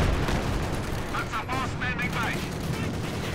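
Mortar and other battlefield fire in the World War II strategy game Company of Heroes 2, heard as dense, continuous rumbling explosions and gunfire that fill the clip, with a brief high whistling streak in the middle.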